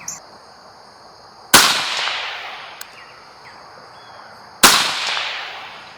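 Two sharp, loud rifle shots from a Bear Creek BC-202 .22 WMR semi-automatic crack about three seconds apart outdoors, each followed by a long fading echo.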